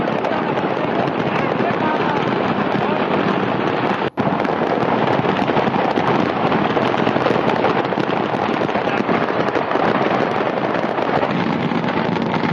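Firecrackers keep crackling and bursting in a blaze at a cracker market in Faridabad, a dense, loud, continuous roar of pops with a brief dropout partway through.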